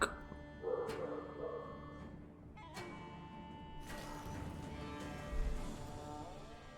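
A dog barks several times in short, sharp bursts at a moderate distance, between quieter stretches with faint background sound and some speech nearby.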